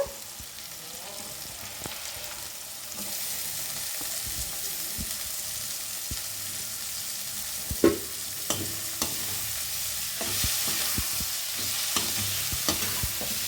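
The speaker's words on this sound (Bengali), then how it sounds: "পেঁয়াজ আর ক্যাপসিকামটাকে ভেজে নিতে হবে" Onions and capsicum with bay leaf, cinnamon, cloves and cardamom frying in oil in a pan for chicken biryani, a steady close sizzle broken by scattered clinks and scrapes of stirring, no talking.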